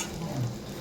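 Fish frying in a pan and being stirred, a brief steady sizzle with soft scraping, close and moderately loud.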